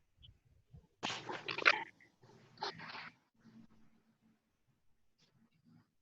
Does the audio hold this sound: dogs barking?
yes